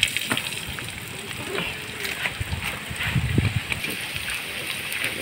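Garlic and onion frying in hot oil in a pan before shrimp are added, giving a steady soft sizzle with small crackles and pops throughout, fairly close.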